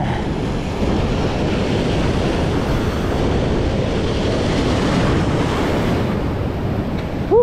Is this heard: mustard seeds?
no